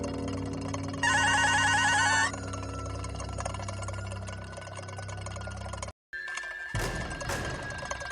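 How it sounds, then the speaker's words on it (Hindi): A telephone bell rings loudly in one sustained burst of about a second, inside an old, dark factory, set over a steady low machine hum with a brief dropout and later clatter. "मीरा का फोन लगातार बज रहा था"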